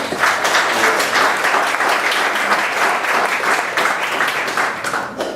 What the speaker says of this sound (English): let's give Andrew a round of applause